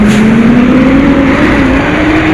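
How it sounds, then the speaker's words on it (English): A garbage truck on a city street at midnight rumbles loudly and steadily nearby, its engine drone slowly shifting in pitch as it approaches. "Listen to what's coming towards me. Listen to how loud it is. The garbage truck."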